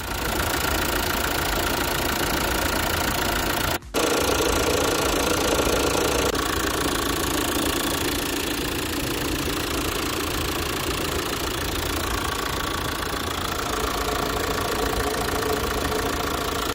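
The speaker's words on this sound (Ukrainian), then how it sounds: "По роботі мотора все було добре, моторчик працює тихенько" A 2021 car engine idles steadily and evenly for the whole stretch, a smooth mid-pitched hum with a faint regular knock, close by and uninterrupted.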